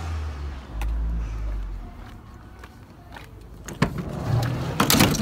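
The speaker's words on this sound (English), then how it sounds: "The car's got the sliding side exit doors." A Mazda 5's sliding side door rolling along its track, a low rumbling slide ending in a sharp latching clunk and shuffling movement nearby.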